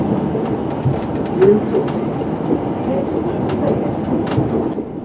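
A Chiltern line passenger train rumbles over the four-rail track near Amersham, a steady close interior roar with faint rhythmic wheel clicks throughout.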